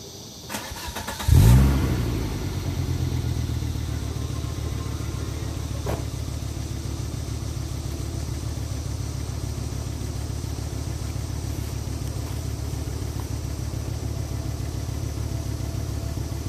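A Volvo Redblock engine is started and settles into a steady idle, running through its regular stainless exhaust in place of an open downpipe; a sharp catch and rise comes first, then a continuous low rumble holds without talk.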